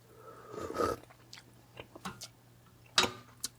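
Soft, close chewing and biting sounds while tasting Persian artichoke stew, a few irregular crunchy bites spread across a quiet room.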